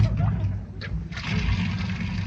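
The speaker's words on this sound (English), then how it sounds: "run some more water" Water gushing from a tap into a bathtub in a radio-drama bathroom scene, a steady rushing splash that swells louder partway through, close and continuous.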